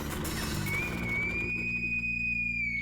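A police whistle gives one long, steady, shrill blast that starts a little in and holds to the end. It sounds fairly close and clear over a low, continuous background hum.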